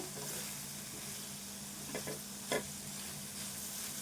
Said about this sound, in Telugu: బెండకాయ ఇట్లా ఫ్రై కావాలి